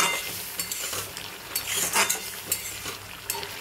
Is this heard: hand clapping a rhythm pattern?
no